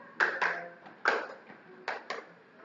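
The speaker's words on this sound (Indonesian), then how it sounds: "Pakai tepuk-tepuk ya." Hand claps in short pairs, sharp and close, with brief pauses between the pairs and no talking.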